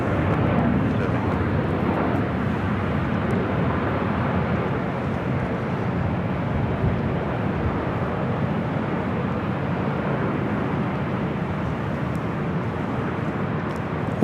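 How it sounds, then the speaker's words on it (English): A WestJet Boeing 737-800 airliner at LAX produces a continuous broad engine roar, steady and fairly loud throughout with only slight variation, with no talking on top. "WestJet heading to Calgary, a 737-800, flight 1511."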